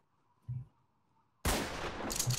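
Shotgun fired from a rooftop in Garry's Mod Trouble in Terrorist Town: a short muffled thump, then a loud, sustained roaring blast with echoing noise afterward.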